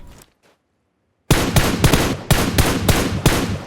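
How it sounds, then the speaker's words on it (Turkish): Automatic gunfire in PUBG Mobile: after a brief near-silent pause, loud rapid bursts of shots ring out in quick succession, close and punchy. "Ben şöyle bir vurmaya çalışayım onu da."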